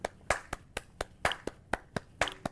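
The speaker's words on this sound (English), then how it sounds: "Here was the rhythm that I wanted you to clap." A pair of hands claps out a steady rhythm in a ukulele class, about ten crisp, close claps at an even pace, some slightly accented, with no talking.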